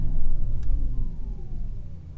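A low, steady hum from a Porsche Taycan Turbo electric car with a faint futuristic whine, rumbling close by and easing off gradually, no talking.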